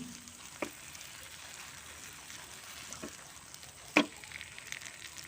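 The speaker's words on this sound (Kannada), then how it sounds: "ಚೆನ್ನಾಗಿ ಫ್ರೈ ಆಯ್ತಿದ್ದು ನೋಡಿ" Pomfret shallow-fries in a pan with only a couple of spoons of oil, giving a soft, steady sizzle punctuated by a few light clinks and clatters, one louder near the end.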